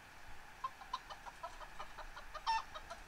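A chicken clucks in a quick run of short, faint calls, mostly evenly spaced with a slightly louder burst near the end, played as a sound effect with no talking.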